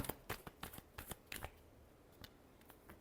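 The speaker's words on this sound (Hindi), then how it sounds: "last shuffle" Tarot cards riffle and snap in a rapid series of crisp shuffling bursts, close and fairly quiet, thinning out toward the end with no voices.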